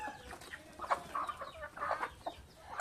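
Chickens cluck softly and repeatedly close by, a steady murmur of low clucks with no talking.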